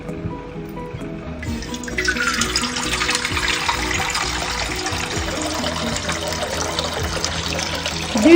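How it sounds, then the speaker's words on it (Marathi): Water poured into a vessel for heating in a home kitchen, a steady trickling splash that starts softer and grows fuller after about two seconds, continuing close and alone to the end. "दीड लिटर पाणी घ्यायचं आहे आपल्याला"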